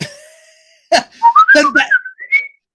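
A series of short, melodic whistled notes rising and sliding in pitch, loud and close, following a faint lingering tone, from the 1971 film Willy Wonka.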